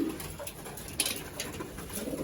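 Racing pigeons in a loft coo softly against a steady background hiss, faint and somewhat distant, with a slight rustle partway through.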